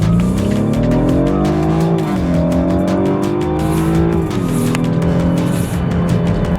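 A 2015 BMW 328i xDrive accelerates hard from inside the car, the engine climbing in pitch through a shift and then pulling up again, loud and continuous with no talk over it.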